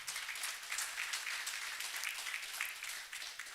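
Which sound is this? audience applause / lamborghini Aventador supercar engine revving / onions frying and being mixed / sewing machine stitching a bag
audience applause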